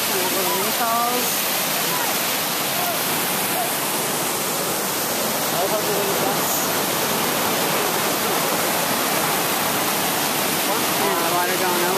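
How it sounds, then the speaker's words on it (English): A small waterfall at Wahkeena Springs along the Multnomah Falls loop sends water pouring over its top in a steady, loud broadband rush, with a voice briefly heard over it. "Little mini falls."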